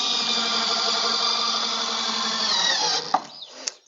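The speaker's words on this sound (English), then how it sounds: "that's where we want to drill" A power drill whines steadily and loudly for about three seconds while boring into a metal shed or garage building for shelf mounting, then stops, followed by a few sharp clicks and knocks.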